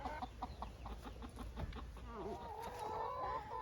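Backyard chickens cluck in quick, close bursts, a few birds overlapping, followed by a longer drawn-out call toward the end.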